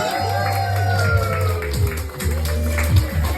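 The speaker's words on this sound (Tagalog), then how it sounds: "Palakpakan naman tayo, guys! Kasamang hiyawan!" Applause and cheering from a crowd at a christening and birthday party, with clapping and whoops mixed under a loud amplified voice and music throughout.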